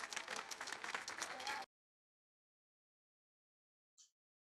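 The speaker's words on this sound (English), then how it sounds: "I'll give you some claps right there." Dense crowd applause and clapping at a Davis Cup tennis semifinal between Italy and Belgium, loud and steady for about a second and a half before cutting off abruptly, followed by silence and a short faint blip.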